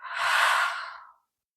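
A single long, breathy exhale during a deep yoga stretch, rising quickly and fading out after about a second, close and soft with no other sound.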